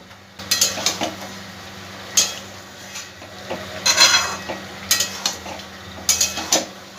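Chicken coated in spices is stirred in a frying pan on a raised gas flame, with repeated scrapes and clinks of a utensil against the pan over a faint sizzle, close and irregular.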